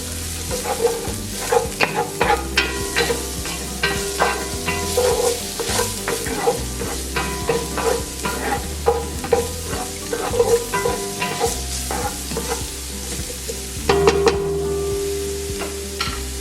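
Onions stirred into sizzling ground beef for Filipino beef giniling, a spatula clacking and scraping the pan in quick repeated strokes over a steady crackling fry, close and fairly loud.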